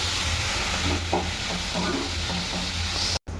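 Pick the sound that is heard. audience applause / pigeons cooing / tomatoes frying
tomatoes frying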